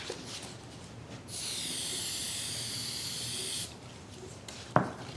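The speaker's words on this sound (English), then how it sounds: "We'll use a spray type adhesive," Spray adhesive hisses from an aerosol can onto a paper pattern for a woodworking project, one steady burst of about two seconds in a quiet room, followed by a brief soft knock.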